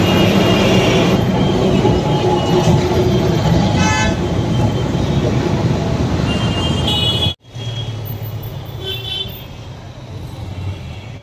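A loud, steady rumble of a passing train fills most of the recording, with brief horn-like tones and a sudden cut to quieter background near the end.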